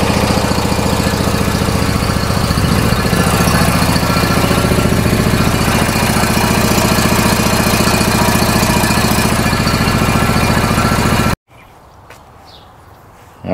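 A John Deere D140 riding lawn mower engine runs steadily after being slightly flooded, a loud, close, continuous chugging idle that cuts off abruptly near the end, leaving quiet room sound.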